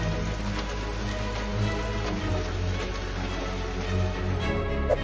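Hail pounding a car windscreen in a violent storm, a dense, steady rattle of impacts that stays loud and continuous throughout with no voices.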